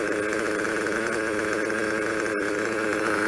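An Italian engine idles steadily after being turned over, a close, continuous low mechanical drone with a faint rhythmic pulse and no change in pitch throughout.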